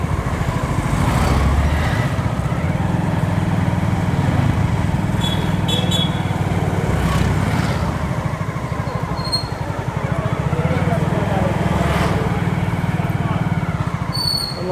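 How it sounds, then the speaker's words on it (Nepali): A motorbike ridden through busy streets near Indrachowk, its engine thrumming steadily and close with a low throbbing rumble, easing off toward parking as faint traffic and street bustle carry on around it. "बाइक पार्किङ गर्छु"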